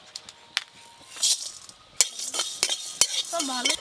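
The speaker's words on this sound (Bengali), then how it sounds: "এখানে নিয়েছি গোটা জিরে, গোটা ধনে, গোটা মৌরি, ছোট এলাচ, লবঙ্গ, দারচিনি, একসঙ্গে ভাজবো" Whole cumin, coriander, fennel, cardamom, cloves and cinnamon are dry-roasted and stirred in a pan, making close scraping and clinking strokes with a light sizzle and sharp metallic taps.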